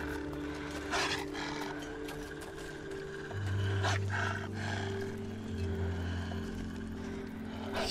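Wolves in the survival video game The Long Dark give two low, rumbling growls, each lasting about a second, over a constant ambient drone.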